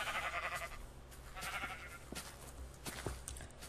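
Sheep in the Minecraft video game bleat in short, wavering cries over a steady game background hum, faint and repeated a few times.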